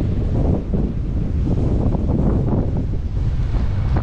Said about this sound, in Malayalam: നല്ല കാറ്റാണ് ഇങ്ങോട്ടേക്ക്